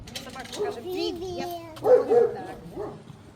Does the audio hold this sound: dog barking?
yes